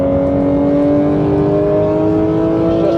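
A Porsche 911 GT3 RS Manthey 992 on a race track, its engine holding a loud, steady high-pitched drone heard from inside the car, with no voices.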